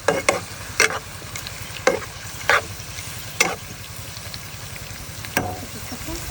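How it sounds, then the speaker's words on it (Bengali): Chopped onion and chili sauté in a pan with cumin powder and garlic paste, a steady close sizzle broken by regular clinks and scrapes of stirring. "জিরা গুঁড়া রসুন বাটা আছে সব কিছু দিয়ে কষিয়ে নেব"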